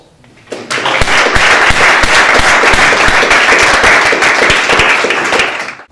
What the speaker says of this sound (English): I think we have a round of applause.